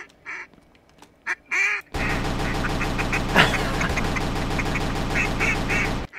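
Ducks quack in a video game duck hunt, a few separate calls at first, then a dense, continuous chorus of rapid quacks layered over a steady buzzing backdrop, loud and close.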